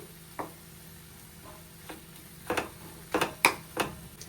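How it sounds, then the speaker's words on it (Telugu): Spatula stirring bitter gourd curry with jaggery in a pan, a few sharp scrapes and taps that grow more frequent toward the end over a quiet sizzle, no talking. "బెల్లం కూడా కరిగేదాకా కలుపుకోవాలి"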